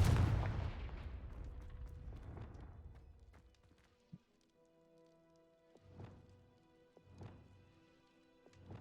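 A Confringo spell explosion in a video game opens with a loud, booming blast that rumbles away over several seconds. A few sharp impact cracks and softer thuds follow.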